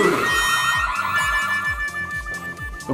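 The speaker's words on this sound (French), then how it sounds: "Vite, les alarmes se mettent en route." A toy police station alarm from a Pinypon playset wails with a steady, repeating electronic siren pattern, loud and close, sounding continuously for several seconds.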